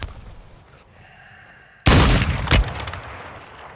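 Gunfire in the video game Call of Duty: Modern Warfare II, a sudden loud burst of rapid shots crashing in after a quiet stretch, with a second sharp blast and trailing reverberant echoes.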